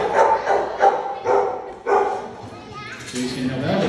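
An old dog, nearly ten years old, barks in a run of repeated yaps at a Perth wildlife park, with voices and excited children's chatter mixed in.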